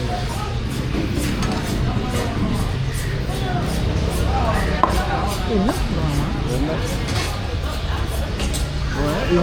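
Fish cut into pieces with a knife at a busy riverside fisherman's market, with repeated chopping knocks through steady crowd babble and market noise.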